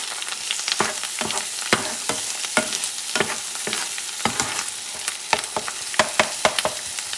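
Chorizo and beans frying in a pan with half a tomato stirred in, a steady close sizzle broken by repeated sharp scraping knocks of the spoon against the pan throughout.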